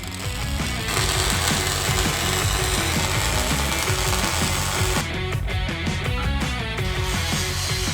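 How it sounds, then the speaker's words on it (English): Steel tube joints of a headboard on a 4WD tray being welded: a loud, continuous crackling buzz close by that keeps a steady level throughout, with rhythmic mechanical texture and no talking. "we could go and weld off all the joints"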